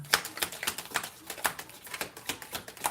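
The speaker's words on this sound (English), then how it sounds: "This one's a little difficult to shuffle." A brand-new, stiff deck of tarot cards is shuffled by hand, giving a run of crisp, evenly spaced card slaps and clicks, close and dry, with no voice.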